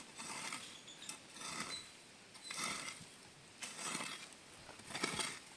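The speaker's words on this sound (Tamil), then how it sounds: "இந்த கருவி நல்லாவே களை எடுக்குது" A long-handled hand weeder is worked through soil to pull weeds, giving a series of about five scraping, rasping strokes spaced roughly a second apart, quiet and close, with no voices.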